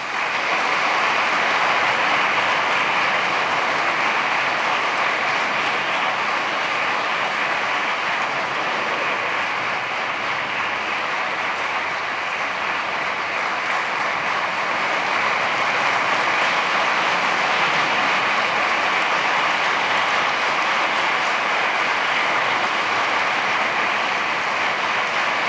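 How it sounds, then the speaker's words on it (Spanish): Sustained audience applause during a Holy Week proclamation in Mazarrón. A broad, even roar of many hands clapping holds steady at high volume for about twenty-five seconds, with no voices heard. "Simplemente pedirle a todos un fuerte aplauso a Encarna"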